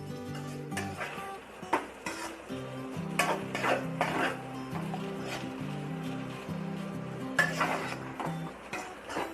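Vegetable fried rice is stir-fried in a pan, with quiet scraping, stirring and occasional metallic clinks of a spatula against the pan, some louder knocks standing out.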